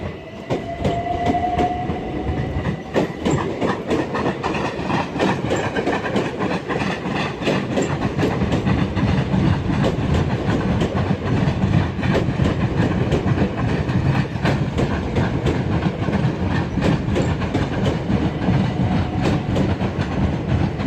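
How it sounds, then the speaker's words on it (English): Southeastern Class 376 electric trains departing Lewisham station, a loud steady rumble of wheels with rhythmic clickety-clack over rail joints as the units pull away close by. "Now departing at some 376s."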